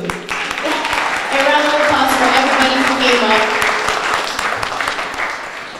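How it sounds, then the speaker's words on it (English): An audience at a Cape Verdean Association Martin Luther King Jr. Day celebration applauds steadily, dense clapping that swells and holds, with voices audible underneath. "actually, round of applause for that, too."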